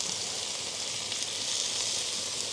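Honey-coated BBQ wings sizzling on a Santa Maria grill, a steady, bright, even hiss of frying fat that holds constant throughout, close and moderately loud with no talk.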